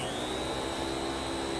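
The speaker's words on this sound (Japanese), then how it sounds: "ったく、毎度毎度骨の折れる掃除機だぜ。" A vacuum cleaner runs in the Like a Dragon: Infinite Wealth video game, a steady faint whirring hum with a sustained high whine, unbroken and with no voices over it.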